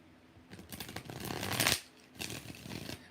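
Tarot cards are shuffled by hand in quick riffling bursts, two close, crisp flurries separated by a brief pause, with no talking.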